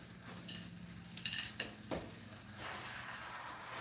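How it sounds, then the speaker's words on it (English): Soft, steady frying sizzle of chicken in a skillet, with a few light scrapes and clinks of a utensil against the pan. "Oh yeah, that sizzle is so good."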